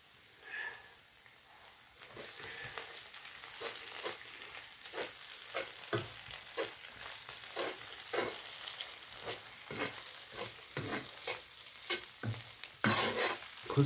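Sarson ka saag cooking with desi ghee, a soft steady sizzle under repeated rhythmic stirring and scraping strokes against the pot, rather faint and with no voices.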